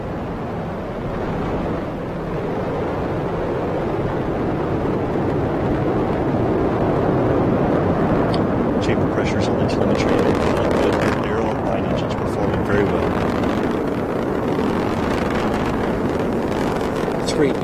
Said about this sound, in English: All 9 Merlin engines lit up and roaring.